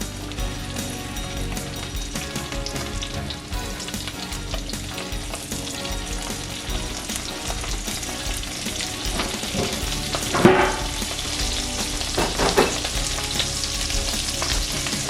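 Salmon fillets fry skin side down in hot oil with a dense, steady sizzle and crackle from start to finish. A couple of brief clinks from the pan or utensil come near the end.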